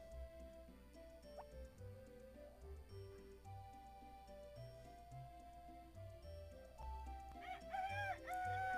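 Chickens in the video game Harvest Moon Back to Nature give a short burst of faint, clucking calls near the end, over quiet game music.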